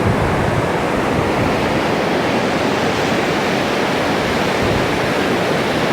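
A mountain river along the Everest Base Camp trek between Phakding and Namche Bazaar rushes at full flow, a loud, steady roar of churning water with no pauses.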